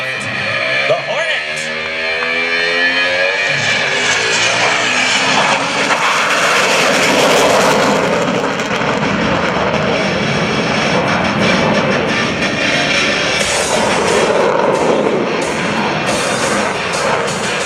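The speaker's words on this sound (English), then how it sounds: "And here he is on takeoff roll." An F/A-18C Hornet jet rolls down the runway on takeoff at an airshow, its engines swelling into a loud, tearing roar that builds and sustains throughout, with a crowd's murmur faintly underneath.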